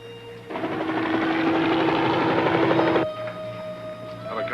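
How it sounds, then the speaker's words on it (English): A helicopter's loud, pulsing rotor roar fills the air for a few seconds, then cuts back to a quieter steady hum. "There's a helicopter directly overhead."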